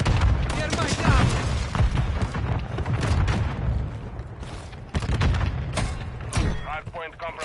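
Thermite breaching charge going off in a military shooter video game, heavy booming blasts and gunfire-like bursts layered with radio voice callouts throughout.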